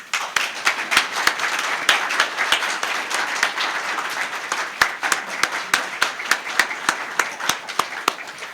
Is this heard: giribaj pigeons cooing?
no